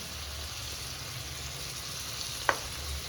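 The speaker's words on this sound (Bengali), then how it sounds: "আর অল্প একটু ধনের গুঁড়ো দিয়ে মশলাটা ভালো করে কষাতে হবে" Ground spices such as turmeric, chilli, cumin and coriander powder fry with a steady soft sizzle in a pan for a Bengali chicken curry, with one sharp stirring clink near the end and no talk.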